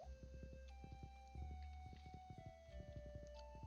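A horse's hooves clip-clop at a steady walking pace in the Stardew Valley video game, in a quiet, evenly spaced pattern with no talking.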